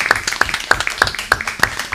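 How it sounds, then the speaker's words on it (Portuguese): A small group at a state torture-prevention committee meeting claps for newly elected members, with crisp, fairly regular hand claps close by and a few voices in the background. "Acho que é importante fazer uma salva de palmas aos eleitos."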